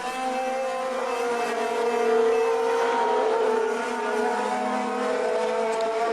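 Formula 3000 race cars from the 2002 German round scream past at high revs, several engines droning together in a sustained, loud, steady roar with a slight swell midway, no voices.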